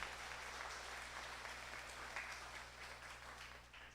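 A congregation applauds a priest after a novena Mass, sustained clapping that is faint and distant, fading slightly toward the end.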